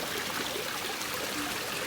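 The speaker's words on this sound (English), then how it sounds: "listen to the water which comes in via the waterfall in the plant pond" Water from a small waterfall pours steadily into a garden plant pond that feeds a koi pond, a constant close splashing and trickling wash with no pauses or voices.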